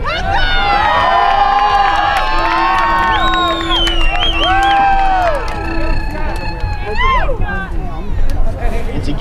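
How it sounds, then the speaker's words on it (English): An audience at a sports bout cheers loudly, a dense crowd roar of shouts and whoops that holds strong for most of the stretch before easing slightly toward the end. "Audience, if you enjoy what you're seeing, why don't you cheer loudly and let them know?"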